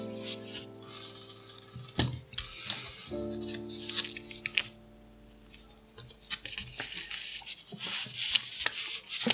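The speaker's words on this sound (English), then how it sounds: "And you can cut the rest of the thread." Scissors cutting leftover thread at a bead loom, close small snips and rubbing handling noises amid a faint steady tonal hum, with no talking.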